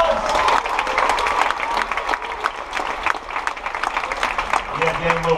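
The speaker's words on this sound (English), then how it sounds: "Let's give them all a nice round of applause." A studio audience at a live game show claps and cheers in a lively, uneven burst, with whoops rising over the clapping and a voice cutting in near the end.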